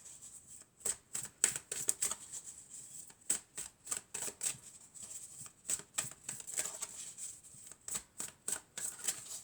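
Tarot cards are shuffled and handled close up, with rapid bursts of crisp riffling and flicking repeating in an uneven rhythm, quiet and with no voices.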